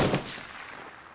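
A single loud gunshot bursts close by in the PUBG battle game, then rings off in a decaying echo.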